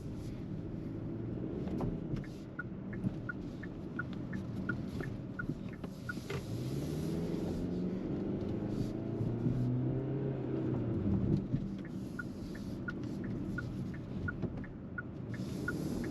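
A 2023 Hyundai Tucson XRT AWD accelerating in normal mode, its engine note rising steadily over road and cabin noise, heard from inside the moving vehicle.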